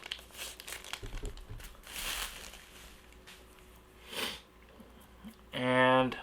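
Soft plastic bag crinkling and rustling comes and goes close by as an original iPhone is unboxed, with a brief burst of handling noise, ending in a short sharp rasp.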